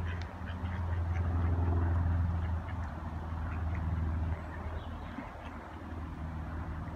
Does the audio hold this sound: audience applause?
no